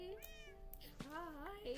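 A cat in the Minecraft video game meows several times in quick succession, short rising and falling calls, quiet and up close with no talk over them.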